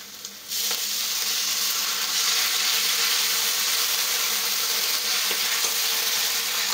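A little water hits a hot pan of fried onions as ground spices go in. After a brief quieter start, a loud, dense, unbroken hiss of sizzling fills the rest of the clip.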